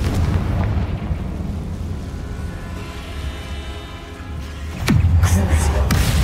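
A Confringo fire spell bursts in Hogwarts Legacy, with a rumbling explosive roar under a dense game soundscape and a sharp blast surging in near the end.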